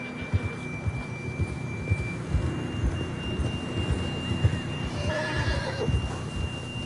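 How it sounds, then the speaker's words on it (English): A horse whinnies in the video game Red Dead Redemption 2, amid a steady low rumble of rain and distant thunder, with a thin electronic tone running through the background. "John was riding that horse when we left Blackwater."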